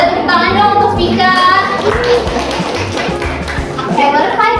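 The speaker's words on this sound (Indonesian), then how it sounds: "Boleh tepuk tangan dong untuk Vika." Classroom of students in an Indonesian language micro-teaching lesson claps briefly for a classmate, a scattered patter of hands with children's voices and murmurs over it.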